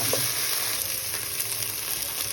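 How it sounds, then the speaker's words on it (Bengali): Turmeric powder and spices frying in hot oil for an egg and potato curry, giving a steady, close, bright sizzle with light stirring noises throughout and no talking. "হলুদের গুঁড়া অল্প অল্প দিচ্ছি, দেওয়ার পরে গরমে ভাজতে থাকলাম।"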